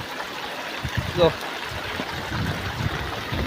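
Floodwater after heavy rain flowing through a village, a continuous rushing wash heard from nearby, with a person speaking briefly over it.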